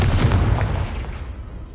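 In Hogwarts Legacy, a Confringo fire-blast spell explodes with a single loud, close boom, and its rumble trails off over under two seconds.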